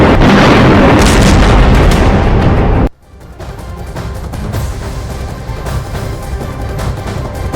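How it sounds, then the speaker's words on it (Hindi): A JDAM bomb explosion destroying buildings, a loud sustained roaring blast that cuts off abruptly, followed by a quieter lingering rumble. "अमेरिका से इजराइल को मिला ये बम बहुत ही खतरनाक तबाही मचाता है।"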